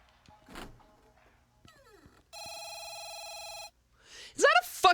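A banana phone rings in a horror video game, a steady electronic trill lasting over a second, with scattered clicks and thumps before it and a loud voice shouting just after.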